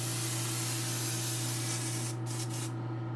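Spray paint hissing from a can held well back from the surface, a steady continuous hiss that cuts off in short breaks near the end, with no talking.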